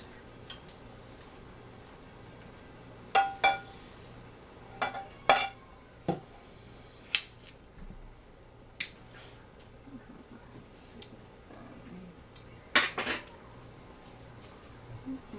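A slow-cooked London broil roast lifted from a hot pot and plated, with scattered sharp clinks and scrapes of metal utensils against cookware spread unevenly over a quiet kitchen background.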